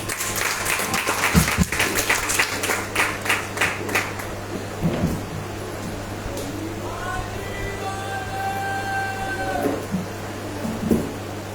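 A church congregation at a Sunday service claps to welcome the pastor, a few seconds of lively applause that fades into room noise and sustained tones.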